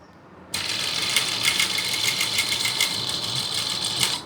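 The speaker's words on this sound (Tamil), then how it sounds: "இப்போ இந்த கேன்வாஸ் ஓரமாக தைக்க ஸ்டார்ட் பண்ணுறோம்" Close and loud, a sewing machine starts up abruptly and runs in a continuous steady whir, stitching along the edge of canvas on a chudithar, with no talking.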